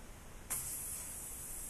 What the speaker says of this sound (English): that compressed air then leaks out of here, or here.